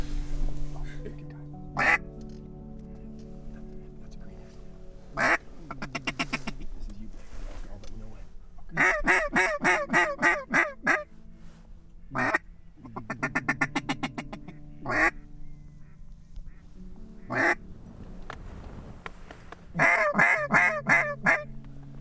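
Ducks quacking during a duck hunt among sagebrush: loud, close bursts of rapid, repeated quacks, with people talking between them.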